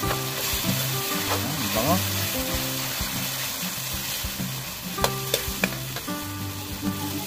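Tomato sauce sizzling and being stirred in a pan while cooking Batangas-style pochero, a steady close frying hiss with spatula scrapes and clinks, and a brief spoken remark over it.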